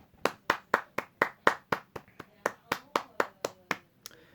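One person claps hands at a steady, even rhythm, about sixteen sharp, close claps with a brief gap before the last, with faint talk underneath.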